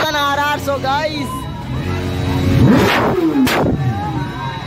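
A new BMW S1000RR motorcycle arriving amid a crowd, its engine rising in a loud rev that sweeps up and fades, with a second rev following, over constant crowd chatter and talking.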